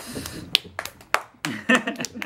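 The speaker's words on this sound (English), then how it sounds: "Applause, applause." A few sharp hand claps at home, scattered and uneven rather than a steady round, close by and mixed with children's chatter and talk.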